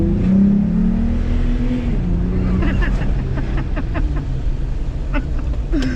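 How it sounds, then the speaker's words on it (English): A Jeep Gladiator engine fitted with a Magnaflow exhaust revs and drones steadily up close, with a deep low rumble that rises in pitch partway through, while a person talks over it. "it feels so good to hear that motor just just get that Magnaflow exhaust"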